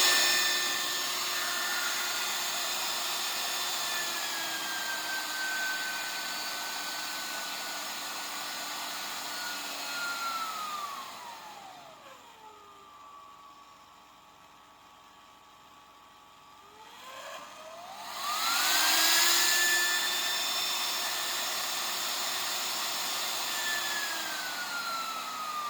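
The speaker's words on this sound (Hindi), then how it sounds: "ये 1000 वाट का हेयर ड्रायर है।" A 1000 watt hair dryer whirs steadily at full speed, its tone sliding down as it slows nearly to a stop midway, then rising back up to a loud, continuous whine.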